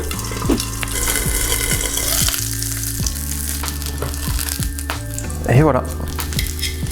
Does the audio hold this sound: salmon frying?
yes